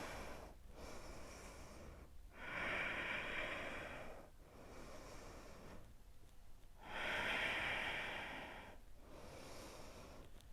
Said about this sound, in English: So we have 3 more deep breaths.